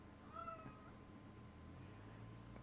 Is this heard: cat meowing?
yes